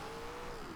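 A 2015 Ford Mustang GT in Forza Horizon 2 revs in third gear, a brief steady engine drone with a thin whining tone that bends downward at the end, heard close and without talking.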